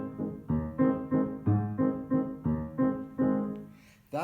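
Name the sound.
piano playing waltz pattern with six-four chords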